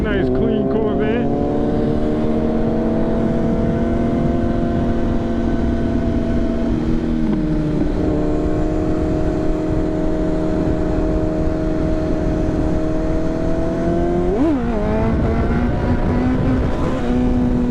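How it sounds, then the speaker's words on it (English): A clean Chevrolet Corvette drives by under acceleration, its engine a loud, close, sustained drone whose pitch climbs, dips briefly at two shifts, then climbs again. "Here goes a nice clean Corvette."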